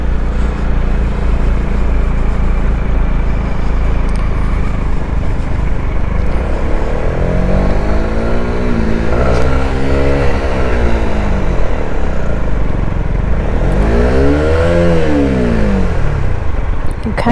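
A Honda CB125R motorcycle riding with steady wind and engine roar, the small engine rising and falling in pitch twice as it slows for braking and pulls away again, loud and close throughout.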